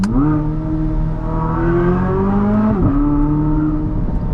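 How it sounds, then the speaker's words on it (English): A 2023 Chevy Corvette Z06 engine blips and revs during a quick downshift, a loud, close, steady mechanical tone that rises and briefly dips before settling, heard alone. "You'll see just with a quick downshift."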